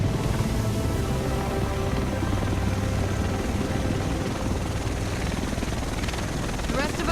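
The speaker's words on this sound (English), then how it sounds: "The rest of us should be in this chopper." A helicopter arrives in the video game The Division, set in Manhattan, with a loud, steady rotor roar and whine filling the scene throughout, no talking.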